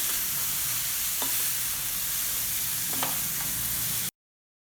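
Boiled vegetables sauté in a hot pan for a white kurma, a steady broadband sizzle running throughout with a few brief utensil scrapes and stirs, close and fairly loud, then cutting to silence near the end.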